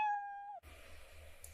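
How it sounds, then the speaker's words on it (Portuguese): A cat sound effect in the Scratch programming environment plays a single clear, tonal meow that bends down at the end, then cuts to faint room noise. "eu vou ter o barulhinho do miau, tá vendo?"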